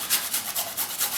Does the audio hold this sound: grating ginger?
yes